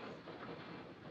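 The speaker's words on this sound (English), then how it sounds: "The train is leaving." A departing train gives a steady, broad rumble and hiss, faint and continuous with no distinct clacks, heard as a low background wash.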